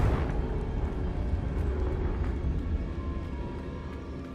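Confringo fire blast spell cast in Hogwarts Legacy: a loud, sustained roaring burst of fiery noise that slowly fades, with no voices.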